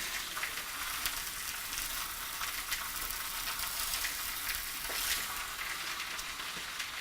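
Seasoned herb pork pieces fry steadily in a hot pan, a dense, even sizzle with small crackling pops throughout, close and unbroken with no voices.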